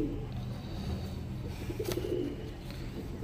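Pigeons coo in a loft of an old bloodline flock kept for sale, low soft throaty calls rising close by over a busy background of rustling and faint room noise.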